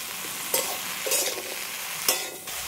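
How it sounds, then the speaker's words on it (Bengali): Leafy greens with salt tossed in a hot pan, three distinct scraping stirs over a constant low sizzle, close and alone. "সবগুলো একসাথে একটু হালকা করে নেড়ে নিয়ে তারপরে জল দিয়ে দেবো"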